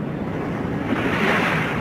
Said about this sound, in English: a little protection from the wind and waves